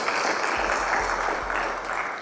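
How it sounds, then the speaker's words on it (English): Audience applause for the Central Bank of Nigeria at a gathering, a brief steady patter of many hands clapping with some low thumps underneath. "Please let us clap for the CBN."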